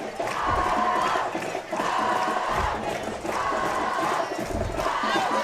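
A student section and school band make noise in the stands at a high school football game, a loud sustained crowd roar that swells and dips in repeated waves.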